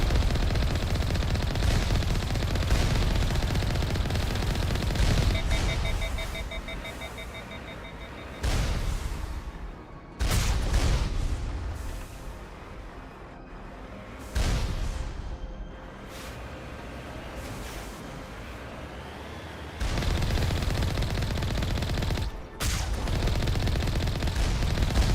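Heavy gunfire and missile launches in the Mass Effect game, dense rattling volleys with booming blasts that rise and fall in loud waves across the stretch, with short lulls between them.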